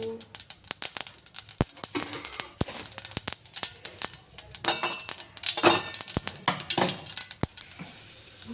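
Mustard seeds crackle and pop in hot oil in a pan, giving irregular sharp snaps of varying loudness over a soft sizzle, close up, with no talking.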